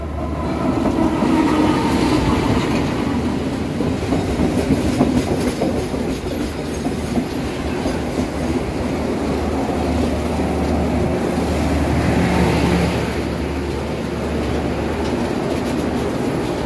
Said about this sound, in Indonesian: perjalanan kereta api komuter lain Penataran saat ini telah tiba di stasiun